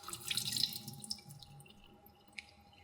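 A kitchen tap runs faintly as a radish is scraped and rinsed, a soft splashing trickle that fades into quiet with a drip near the end.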